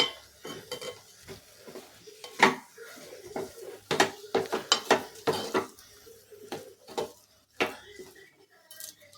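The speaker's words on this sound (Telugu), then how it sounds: "దీన్ని కూడా బాగా మిక్సింగ్ చేయాలి." A spoon scrapes and clinks against a metal pot while chili powder is stirred into a dish. The knocks come in quick, uneven bursts with short pauses between them. Close and clear, with a faint low hum underneath.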